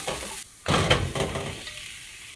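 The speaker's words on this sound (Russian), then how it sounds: "На этом же масле буду обжаривать лук вместе с чесноком." Onion, garlic and potato frying in oil in a pan, a steady bright sizzle that jumps louder as something is added or stirred, then settles into a softer continuous crackle.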